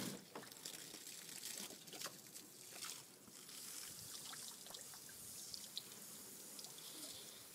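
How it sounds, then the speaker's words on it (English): Water runs from a tap or hose into a backyard pool in a steady, fairly soft splashing trickle, broken by a few brief sharper splashes. "I'm going to turn the water off"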